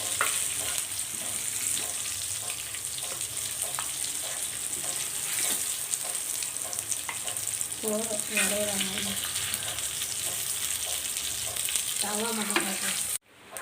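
Fish frying in a pan for a Tamil Sunday home meal, a steady close sizzle with crackling oil that runs throughout, while brief voiced sounds rise over it near the end.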